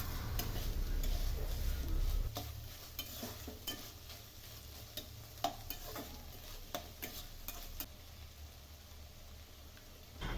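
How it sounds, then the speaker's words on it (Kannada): Mung bean sprouts fry in a pan for a sprouts palya, a soft steady sizzle broken by irregular sharp scrapes and taps of a spatula stirring, close up with no talking. "ಚೆನ್ನಾಗಿ ಫ್ರೈ ಮಾಡ್ಕೊಬೇಕು"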